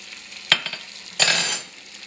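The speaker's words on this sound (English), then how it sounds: "Now I'm going to add my vegetables and mushrooms." Vegetables and mushrooms hit melted butter in a pan over medium heat, giving two short bursts of sizzling as they are stirred, close by with no talking.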